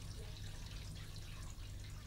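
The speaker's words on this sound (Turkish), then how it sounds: "bak böyle şırıl şırıl akan suyun sesini sabaha kadar uyuyamıyoruz he" Water runs steadily from a broken household faucet, a continuous low trickling rush that fills the whole stretch at an even, moderate level with no voices.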